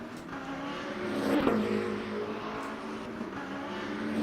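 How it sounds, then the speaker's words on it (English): Hypercars in the Le Mans Ultimate racing game drone and rev at Imola, with one car swelling louder as it passes mid-way and engine whine continuing throughout. "As Kuzman leads the hypercar field"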